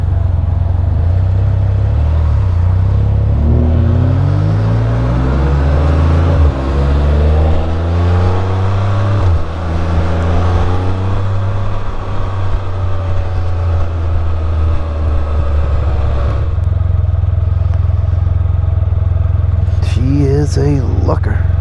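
A Can-Am Spyder F3-S three-wheel motorcycle on a road ride, its engine droning loud and close with rising and falling revs as it shifts, under a rider talking over wind noise.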